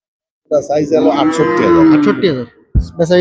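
A cow at a bustling cattle market where Deshi bulls are sold for Qurbani moos loudly and at length, a single long, close, drawn-out call followed by a brief thump and a little background noise.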